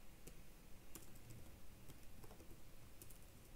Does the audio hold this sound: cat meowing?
no